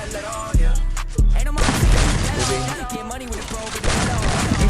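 Rapid gunfire in Free Fire, played on an iPhone 6S during a tournament match, loud booming shots with heavy low-end thumps, repeated bursts over a dense noisy background.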